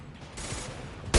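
Gunfire from the video game Mass Effect 2 erupts as a sharp, loud burst near the end, after a stretch of low rumbling combat noise and background game sound.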